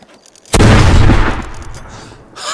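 A bomb going off in the zombie shooter Arizona Sunshine: one loud, close blast that hits suddenly and then rumbles away over about two seconds, with a faint voice just after it.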